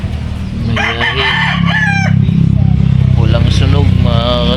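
Backyard gamefowl rooster crows in short harmonic calls, close and loud over a low engine drone, with some clucking near the end.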